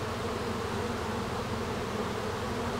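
Honey bees at a hive colony, a dense continuous buzzing drone of many insects close by, steady and unbroken throughout with no voices.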